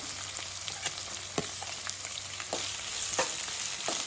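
Finely chopped onions and green chillies fry in a pan for vegetable mandakki, with a constant close sizzle and a few sharp spatula clicks and scrapes spaced through it.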